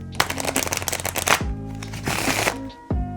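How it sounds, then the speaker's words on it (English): A quick riffle shuffle of playing cards, a dense fluttering burst of card flicks close up, followed by a brief softer shuffle, with a little faint voice underneath. "it is a genuine riffle shuffle"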